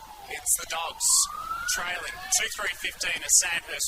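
Siren wails rising and falling in the background at a suburban football ground during a reserves grand final, Sandhurst versus Golden Square, sounding through steady commentary and crowd noise.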